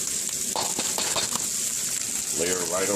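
Steady loud sizzle of white onions frying in a hot pan for pork fried rice, a continuous hiss with light stirring clatter, while a person speaks briefly over it.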